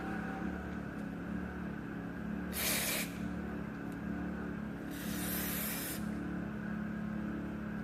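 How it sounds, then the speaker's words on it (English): Carburetor cleaner sprays onto a carburetor in two clear bursts, each a loud hissing blast of about a second over a steady engine-like hum. "And then just spray down the whole carburetor."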